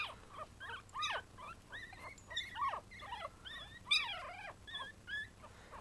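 Several one-week-old puppies whimper and squeal nearby in a string of high, wavering cries, overlapping and rising at times, over a faint low background hum.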